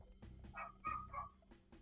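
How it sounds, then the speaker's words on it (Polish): A neighbour's dog gives a few short barks, faint and distant, in an otherwise quiet indoor space. "Przepraszam za psa, jeśli by słychać."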